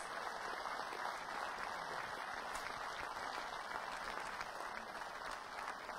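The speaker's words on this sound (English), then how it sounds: "You're going to have to keep the applause going." Steady crowd applause at a men's doubles tennis match, with Shamasdin and Junaid facing Delgado and Cerretani, holding an even, dense wash of clapping throughout without letting up.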